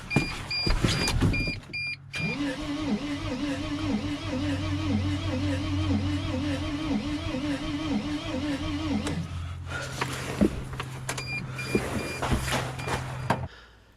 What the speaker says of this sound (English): at least we got the starter spinning, so that's already a bit of good news. But of course it's not starting.